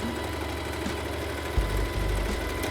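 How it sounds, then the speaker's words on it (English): A sewing machine whirs in a steady low mechanical hum while stitching a throw pillow cover. The motor drone runs without a break and shifts to a heavier pitch about halfway through. "Put the needle in the machine, lift up the presser foot, turn it 90 degrees, and sew right back up the top."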